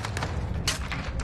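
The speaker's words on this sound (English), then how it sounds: "Oh, bombing." Bombing explosions in Call of Duty Warzone, a dense cluster of booming blasts and thuds over about a second, loud and continuous with sharp bursts layered on a heavy low rumble.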